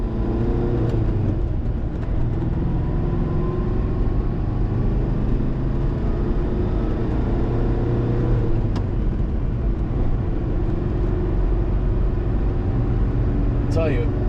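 Porsche 914 with a 2056 engine driving on the road, a steady low engine drone and road rumble running throughout at constant level, with a brief higher squeal near the end.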